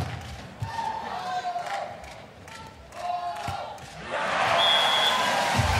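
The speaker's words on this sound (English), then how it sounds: "Something for the crowd to cheer about as Bouter finds some open sand" Crowd at an FIVB 4-star beach volleyball match in The Hague cheers from a distance, with rising swells of noise and a few thumps, building to sustained louder cheering in the final seconds.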